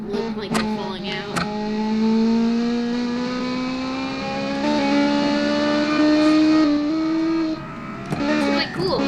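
A race car engine drones and revs in long rising pitches near a track, its tone climbing steadily and easing off, with brief clattering bursts at the start and end and people talking faintly.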